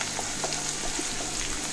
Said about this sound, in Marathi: आता हा कांदा आपल्याला चांगला तेलामध्ये परतून घ्यायचा आहे थोडा मऊसर होईपर्यंत